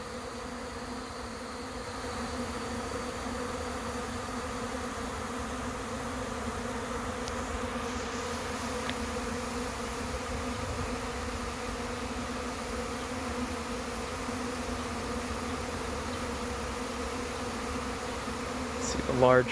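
A honeybee swarm drones steadily at the entrance of a swarm trap near a tree, a dense, continuous buzz of many bees holding at one level, with a few individual bees zipping close past the microphone.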